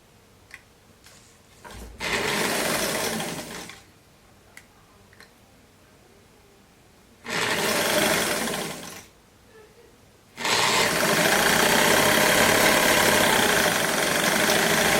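A sewing machine stitches a dress in three bursts: a short run of about two seconds, another near seven seconds, then a long continuous run to the end, with quiet pauses and small handling clicks between.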